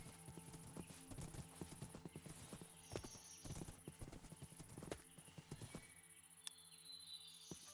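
Horse hooves clip-clop in the Minecraft video game, with a rapid run of hoofbeats and a brief whinny, faint under quiet game ambience, with a few softer steps near the end.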